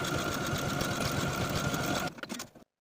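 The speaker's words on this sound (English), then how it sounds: "Now we're going to take this to the sewing machine and sew this seam through all layers" A sewing machine stitching a seam through all layers of a pair of briefs, a fast, steady mechanical whirr for about two seconds that then stops with a few faint clicks.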